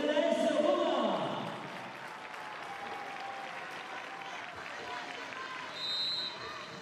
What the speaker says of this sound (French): Merci d'applaudir les deux équipes de l'Athletic Bilbao et de l'AS Roma.